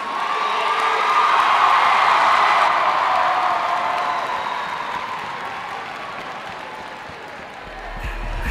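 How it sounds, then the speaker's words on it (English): Crowd applause and cheering for Powder Puff cheerleaders at a school pep rally, a broad roar of clapping and whoops that swells early, then gradually fades. "Big round of applause for our Powder Puff cheerleaders."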